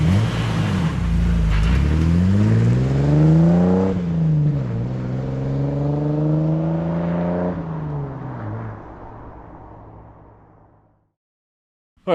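Jeep TJ with a Banks Monster exhaust revving, deep rising and falling engine tones through several throttle blips, loud and close, then fading to silence near the end.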